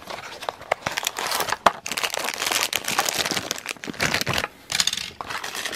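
Crinkling and tearing of plastic and card packaging as a Tomica die-cast toy car, a Honda Civic GL rally type, is unwrapped; close, busy rustling with sharp crackles throughout and no talk.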